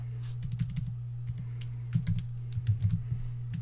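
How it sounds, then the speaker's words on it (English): Quick keystrokes tap on a computer keyboard in short irregular bursts, close and clear over a steady low electrical hum. "I'll type in the word small"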